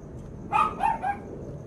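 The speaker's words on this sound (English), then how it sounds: "Diamond, what are you barking at, dude?" Three quick dog barks in a row, moderately faint, against a quiet indoor background.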